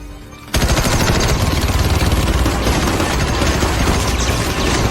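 Sudden burst of rapid, sustained gunfire from the film Death Wish erupts after a brief quiet moment, loud and continuous like automatic weapons firing without pause.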